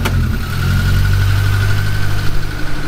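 Modified kei truck engine idling steadily and loudly up close, a continuous low rumble with slight vibration and no talk.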